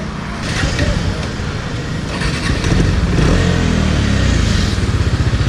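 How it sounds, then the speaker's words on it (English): A 2019 Bajaj Dominar 400 motorcycle with dual exhaust idles and revs with a deep, throbbing exhaust note, rising louder in the second half; some voices may murmur faintly underneath. "Now I'll be showing the exhaust note for this."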